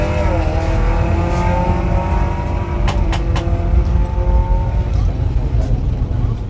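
A Ford Mustang and a Chevrolet Camaro drag race at a Labor Day bracket event, loud engines roaring and rising in pitch with a tire squeal, crowd and announcer voices underneath throughout.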